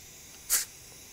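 Nitrogen gas pressure bursts out of a QA1 monotube racing shock at its hyperscrew, a single short, loud hiss lasting about a fifth of a second against quiet background.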